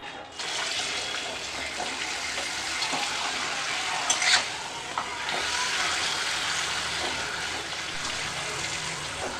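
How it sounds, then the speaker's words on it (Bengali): Papad sizzles in hot oil in a wok while vegetarian cauliflower curry is being made, a steady close hiss with faint crackles and a brief louder bubbling burst midway. "ততক্ষণে কড়াইতে আর একটু তেল দিয়ে আমি পাঁপড় ভেজে নেব।"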